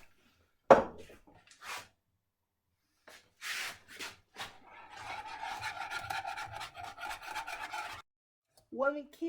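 Homemade ice cream mixture being stirred in a bowl, with scraping, rasping strokes against the bowl and a steady run of quick rhythmic rubbing in the middle, close and fairly quiet.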